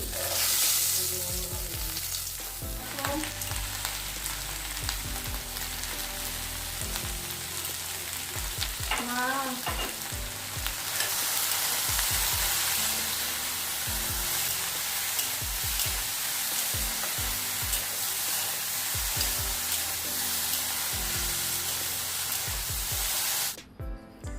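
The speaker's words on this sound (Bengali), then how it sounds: "আমি ওই ভেন্ডি আলু ভাজাটা বসিয়ে দিয়েছি" Okra and potatoes sizzle steadily in a pan, a constant frying hiss with scraping stirs and clinks early on, then a denser, louder spitting sizzle through the rest.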